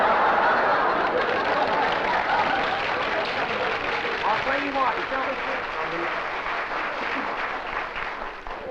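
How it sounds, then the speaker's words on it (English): A television studio audience applauds in a dense, sustained wash of clapping mixed with chuckles and laughter, loud and close, while a voice speaks over it. "I got to hear that deafening applause way over here"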